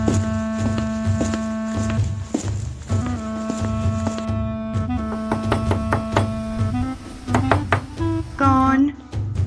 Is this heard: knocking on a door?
yes